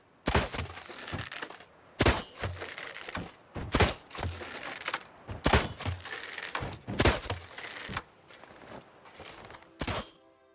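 Targets struck during shooting practice in The Witcher 3: about eight sharp, cracking wooden impacts spaced irregularly, each loud and abrupt against a quiet, faintly murmuring background.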